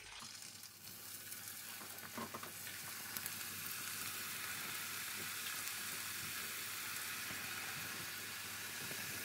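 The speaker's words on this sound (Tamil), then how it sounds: "இப்போ பேனில் எண்ணெய் விட்டு வச்சுருக்கிறேன். இது இப்போ கொதிச்சிட்டுது எண்ணெய்." Paruthithurai vadai fry in boiling oil, giving a dense, continuous sizzling hiss that holds steady and close, with a few bubbly pops near the start and no talking.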